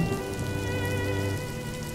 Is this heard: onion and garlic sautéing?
no